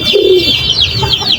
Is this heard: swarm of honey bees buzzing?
no